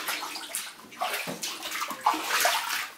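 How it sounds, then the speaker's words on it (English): Water splashes and sloshes in a deep flooded basement, striking off a fan, in a steady series of wet bursts that swell and surge toward the end. "you see the water splashing off the fan"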